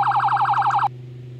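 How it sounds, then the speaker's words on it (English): A Roblox police car's priority siren gives a rapid, steady high warble for just under a second, then cuts off abruptly, leaving a low hum. "Priority, which sounds like this."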